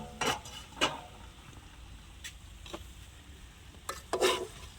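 Chopped potatoes being stirred in a frying pan for a village-style potato curry, a few soft scraping strokes with faint sizzling between them, close and moderately quiet.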